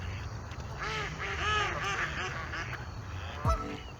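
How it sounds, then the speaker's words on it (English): Ducks at a pond in video game ambience, suddenly bursting into a flurry of loud overlapping honks and quacks, then settling back to a quieter background. "it really stands out when one of the ducks at the pond would just freak out"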